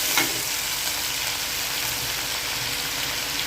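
Tomatoes sauté in a pan for a prawn gravy, a dense, even sizzle and hiss close by with a faint stir at the start and no speech.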